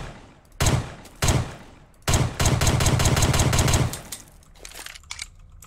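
Gunfire from the FiveM-style gun system in the Roblox video game: two single shots, then a rapid automatic burst of close, loud reports, followed by fainter clicks and rattles.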